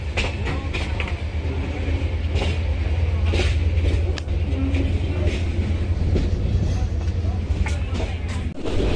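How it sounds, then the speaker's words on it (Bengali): Kurigram Express train running between Kaunia and Rangpur at roughly seventy to eighty, heard from inside as a loud steady rumble with repeated rattles and clacks, and faint voices in the carriage. "আমাদের ট্রেনটা মোটামুটি এখন সত্তর থেকে আশি স্পিডে আসলে যাচ্ছে"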